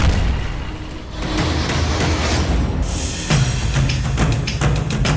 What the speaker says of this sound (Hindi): चंद सेकंड बाद दूसरा धमाका होता है।